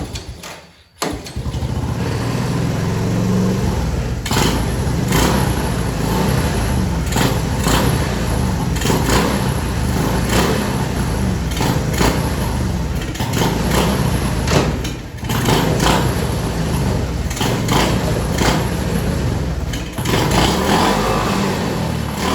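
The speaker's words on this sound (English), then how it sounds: "I'm going to start it back up" A 1984 Honda 125M three-wheeler that had been sitting outside starts and keeps running, its small single-cylinder engine idling and revving steadily and loudly nearby for about twenty seconds, with no talk over it.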